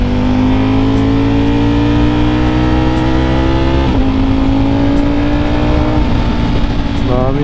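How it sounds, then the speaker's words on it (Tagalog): Trucks and other traffic pass on a road in Nueva Vizcaya, heard as a steady, loud engine drone with a slowly rising pitch, heavy and close throughout, while a voice speaks faintly now and then. "Maraming truck eh"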